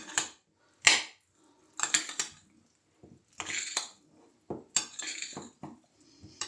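Utensils scrape and clink against a bowl in short bursts of tossing and stirring a beetroot salad with mayonnaise, with soft squishy sounds between quiet pauses.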